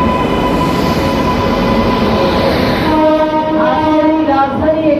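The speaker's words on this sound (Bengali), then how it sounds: "আমার মনে হয় ট্রেন এসে গেছে এবং আজকে এই রাজধানী এক্সপ্রেস" The Rajdhani Express arrives at Malda Town station, sounding a long, loud, sustained horn over the heavy rumble of the rolling train. The horn's pitch shifts partway through as the train keeps moving.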